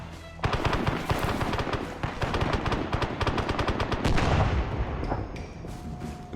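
Sustained, loud automatic gunfire fired from the hip in Arma 3, rapid bursts of shots overlapping into a dense, continuous rattle that runs for several seconds before tapering into a few scattered reports.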